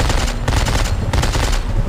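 Rapid automatic gunfire in the video game Dead Space 3, a dense, loud burst of repeated shots lasting under two seconds.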